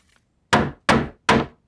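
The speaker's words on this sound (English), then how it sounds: "A couple of taps with this hammer will fix it." A hammer strikes a squeaky wooden floorboard three times in an even rhythm, each a sharp, close wooden thunk that decays quickly into silence before the next blow.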